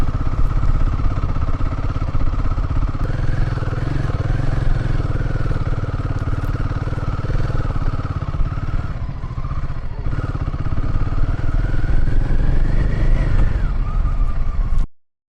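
Royal Enfield Himalayan 450 motorcycle carrying a pillion on a semi off-road patch, its engine loud and close throughout with steady thumping and changing revs, cutting off at the end.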